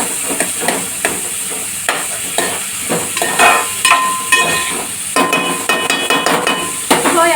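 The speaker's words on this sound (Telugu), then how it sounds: "నెక్స్ట్ పచ్చిమిర్చి కూడా మంచిగా ఫ్రై చేసుకోవాలి." Green chillies fry in a pan with onions for a mango and prawn curry, giving a steady close sizzle broken by frequent clicks and scrapes of a spoon stirring, with no talk.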